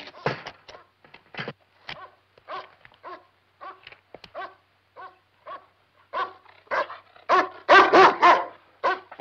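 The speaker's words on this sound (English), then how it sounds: "Well, at least feed my dog" A dog in a 1972 horror film scene barks and whimpers in repeated short bursts, yips and whines close by that grow louder and denser toward the end, with no talking.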